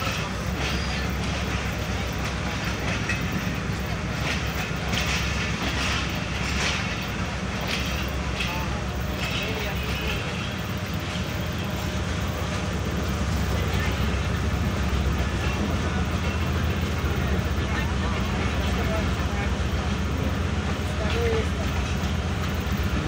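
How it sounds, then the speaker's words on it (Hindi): The Tezgam Express, an 8 Down train, pulling out of Lahore station with a steady low rumble and faint clatter of the carriages, while someone talks over the noise throughout. "आज की जर्नी है हमारी एट डाउन तेज़गाम के साथ लाहौर स्टेशन से 5 मिनट डिले के साथ डिपार्चर कर रही है।"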